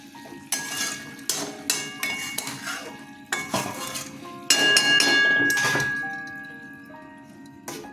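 A metal pan of drumstick, mustard and potato chorchori gets its lid with the gas off: a run of close clinks and knocks of metal on metal, then a longer ringing clatter that slowly fades, with no talking.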